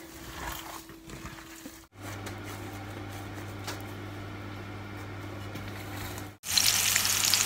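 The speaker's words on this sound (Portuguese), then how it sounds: "Coloquei aqui já para fritar." Breaded ground meat patties fry in a pan with a steady, close sizzle and crackle, interrupted by two brief silent cuts before it resumes more brightly.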